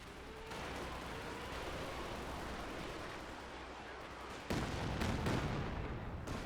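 Katyusha rocket barrage in a real-time strategy match, a sustained roaring rumble of launches that swells into a louder burst of blasts near the end, no talk.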